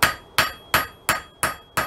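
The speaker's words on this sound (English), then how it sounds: "I have to be a lot more cautious with my hammer blows" Hammer blows ring out on forged metal as a leaf shape is thinned, six sharp, evenly spaced strikes at a steady rhythm, close and loud with no talking.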